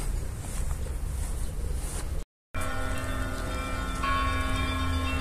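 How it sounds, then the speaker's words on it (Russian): Bells ring from a small church in a historic park, heard at a distance as layered ringing tones over outdoor ambience, continuing after a brief dropout. "Это вот на той церквушке идет оттуда звон."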